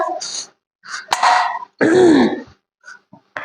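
A person coughs and clears their throat in a few harsh bursts, with short quiet gaps between them.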